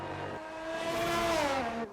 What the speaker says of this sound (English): a fast lap in the Ferrari. And here he goes, and he's off.